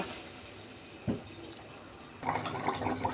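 Liquid is added to a rohu fish curry with potato and raw tomato; a single soft splash comes first, then a steady, quiet pouring and trickling that runs to the end, without speech.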